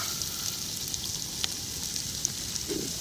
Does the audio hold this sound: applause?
no